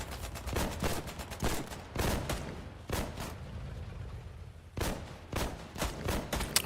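Gunfire in the video game Company of Heroes 3: sharp rifle and machine-gun bursts in irregular clusters, loud and close, with brief lulls between volleys.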